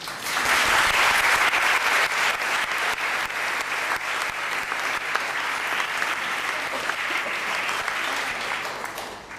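Sustained, dense applause from a conference audience fills the room, loud and even throughout with no voices standing out.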